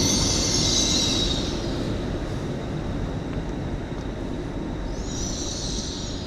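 LNER train 800 203, arriving at York on a terminating service from London King's Cross, rumbles steadily past on the East Coast Main Line, with high wheel squeal at the start and again near the end.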